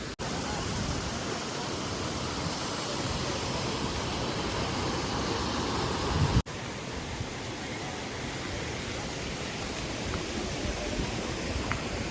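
Stream water at Karasu Maden Deresi rushes steadily downhill over rocks like a water slide, a dense, continuous roar heard close by with no break and no talking.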